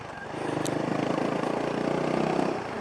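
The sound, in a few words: motorcycle engine while riding fast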